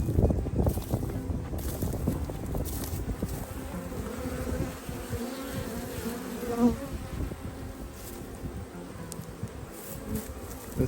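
Honey bees buzz around a spring hive, a dense hum of many insects close by, with passing wind noise and an occasional louder bee flying near.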